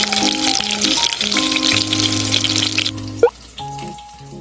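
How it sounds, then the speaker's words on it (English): Food sizzles and crackles steadily in a hot pan, with a clink of utensils near the end and a few tonal background sounds. "all we're going to hear is the sizzling of the food"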